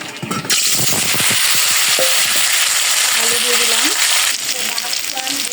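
Peanuts fry in hot oil in a wok, sizzling loudly and steadily while a utensil scrapes and stirs in quick, uneven strokes.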